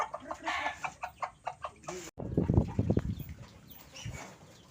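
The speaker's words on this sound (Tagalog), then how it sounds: "Dito naman tayo sa Brahma na manok." Brahma chickens cluck in a run of short, rhythmic bursts, close by, with rustling and scattered clucks continuing after a brief gap.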